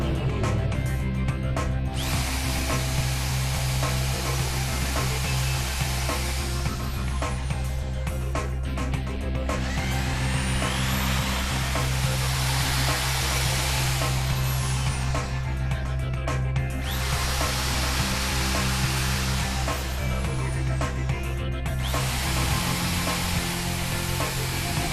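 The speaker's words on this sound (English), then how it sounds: "I'll drill the ones at the back then" Power drill boring holes at close range during helicopter building, several sustained loud whining bursts separated by short pauses, with a continuous drone throughout.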